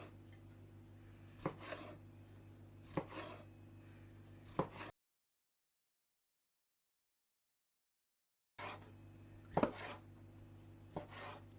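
A kitchen knife slices squid into small strips on a cutting board for a Korean seafood pancake: a few crisp, close chops, a silent pause, then two more.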